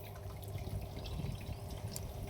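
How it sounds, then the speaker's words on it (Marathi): Water running steadily into a container while a cow-based farm preparation is being mixed, a faint continuous trickle and splash with no voices. "यात पाणी टाकणं चालू केलेलं"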